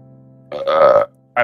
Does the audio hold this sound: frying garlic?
no